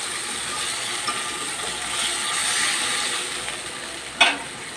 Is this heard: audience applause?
no